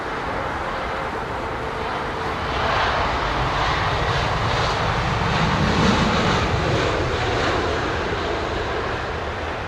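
Airliner engines at London Heathrow Airport, a loud, steady, broad roar that swells slightly as the jet passes nearby, with no voices.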